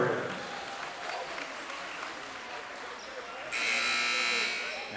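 Crowd applause for the Lady Spartan cheerleaders at a homecoming high school basketball doubleheader, a steady wash of clapping in a gym under a PA announcer's voice, with a loud buzzer cutting in near the end.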